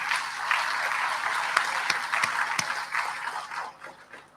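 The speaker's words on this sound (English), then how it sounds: "let's join me to give her a round of applause" An audience at an inaugural professorial lecture applauds Professor Rusea, steady clapping with a few sharp individual claps standing out, tapering off toward the end.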